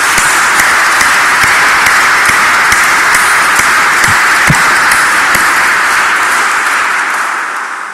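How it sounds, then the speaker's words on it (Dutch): Sustained applause from an audience at a mayoral installation ceremony, honoring the departing mayor. The dense, steady clapping lasts throughout and fades slightly at the end. "Ik zou graag zeggen een hartelijk applaus voor Liesbeth."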